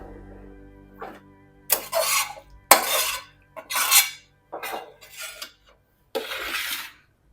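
Cauliflower rice is mixed in a vessel with a metal utensil, giving a series of about eight separate scraping and clinking strokes at an uneven rhythm, close and fairly loud, with no talk.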